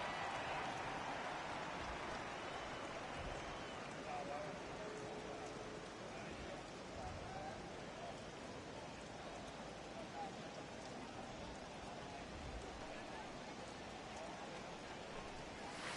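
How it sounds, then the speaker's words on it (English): Heavy rain in the MLB The Show 18 baseball video game during a Giants game, a steady, moderately faint wash of falling rain that stays even throughout with no distinct drops standing out. "Well, that rain is really coming down right now."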